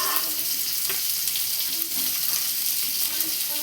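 Beans and capsicum fry together in a pan with a steady, loud, close sizzle, crackling continuously with faint stirring movements underneath.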